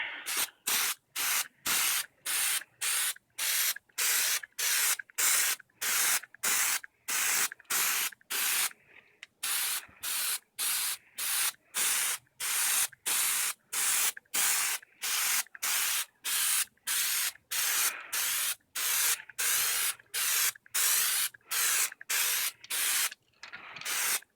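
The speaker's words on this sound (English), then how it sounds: "before I started any spray painting or anything" An aerosol can sprays paint on a DIY Batman cowl mask in short, repeated hissing bursts, about two per second with brief gaps, close by and with no talking.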